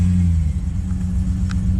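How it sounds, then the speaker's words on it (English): An LS1 V8 swapped into a Nissan Patrol GU idles after a cold start, a loud, steady, close low rumble with even throbbing pulses and a few faint clicks above it. "first start today, cold start"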